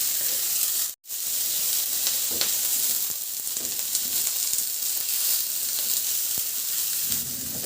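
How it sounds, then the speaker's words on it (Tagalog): Garlic and onion sauté in oil in a pan (kawali), a loud, dense sizzle with occasional scraping and a brief dropout near the start, heard without talk. "Igisa ko na rin yung sibuyas."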